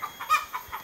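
A few short clucks from chickens nearby, spaced irregularly, the middle one loudest, against a quiet background.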